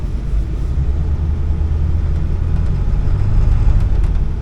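A deep, steady engine rumble from a Ford F250 7.3 Powerstroke diesel pickup idling close by, low and throaty with no talking.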